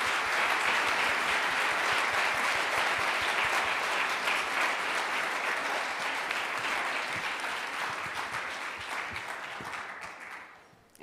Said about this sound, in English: And now a very big applause for Shannon for her keynote.